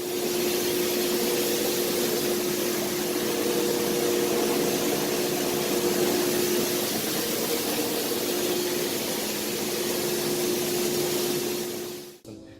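A C2 turbo wire chopper with a single-shaft shredder and a 25-horsepower turbo mill runs continuously, a dense steady industrial roar with a constant hum, cutting off abruptly at the end.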